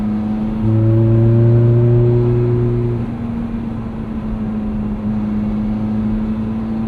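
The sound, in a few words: 2008 Ferrari F430 Spider V8 engine bellowing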